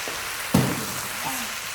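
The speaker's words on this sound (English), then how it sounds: "And listen to that sizzle." Soft, continuous sizzling and crackling of fried rice frying in a pan, with a brief clatter near the start.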